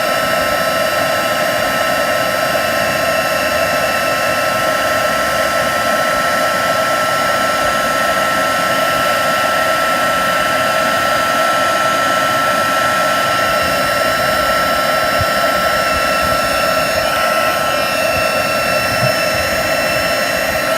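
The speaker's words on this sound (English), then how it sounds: "When you first switch the heat gun on, it does take a little while just to heat up." An electric heat gun blows steadily through a watercolour spritz session, a constant loud whirring hiss with a fixed whine that holds unbroken for about twenty seconds.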